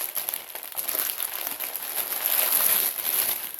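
A cross-stitch kit is pulled from a white plastic bag, giving close, continuous crinkling and rustling of plastic for a few seconds with no voices.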